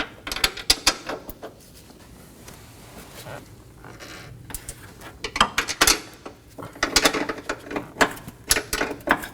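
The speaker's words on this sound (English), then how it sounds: "I will be using a box end wrench." A box end wrench works a strut fastener on a 2020-2027 Toyota Corolla during front strut and spring replacement, giving bursts of sharp metallic ratcheting clicks and clanks that come in uneven clusters with quieter pauses between.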